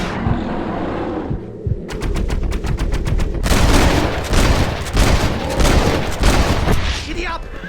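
Red Dead Redemption gunfire comes in rapid volleys of loud, close shots that build into a dense, sustained fusillade, with game voices shouting over it.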